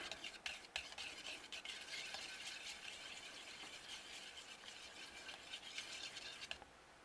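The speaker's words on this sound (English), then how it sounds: "we'll just whisk the egg mixture like that" Egg mixture for pancakes whisked briskly in a bowl, a steady run of quick scraping, tapping strokes close up that continues for several seconds before easing off near the end.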